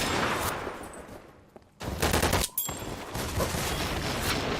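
Gunshots in the video game Double Action Boogaloo, loud rapid bursts of fire that pause briefly and then resume as dense automatic shooting.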